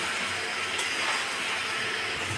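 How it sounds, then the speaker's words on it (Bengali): Water boiling in a pot next to fish being cooked in a home kitchen gives a steady, dense hiss and bubbling rush that fills the moment without a break. "পাশে এই জল ফুটানো হচ্ছে"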